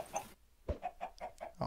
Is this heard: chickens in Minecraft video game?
yes